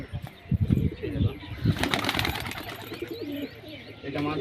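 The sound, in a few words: pigeon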